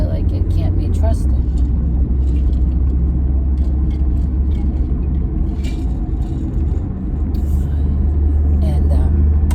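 A car in questionable condition drives with a steady low rumble filling the cabin, constant and loud, with faint road noise above it.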